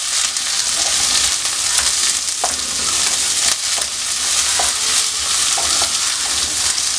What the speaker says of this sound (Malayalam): നല്ലതുപോലെ ഒന്ന് വഴറ്റി കൊടുക്കാം.